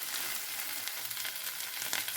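Okra sautéing in hot oil for a Tamil vendakkai poriyal gives a steady, close crackling sizzle with no pauses and no voices.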